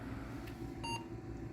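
A generic PC tower gives a short electronic beep as it powers on, one brief clear tone against a quiet background hum.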